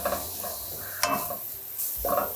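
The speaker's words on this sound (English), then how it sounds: "I'm constantly scraping up the bottom of the pan" A spoon stirs and scrapes across the bottom of a pan while green bean casserole cooks from scratch, rhythmic rasping strokes with a sharp clink midway over a steady low sizzle, close up.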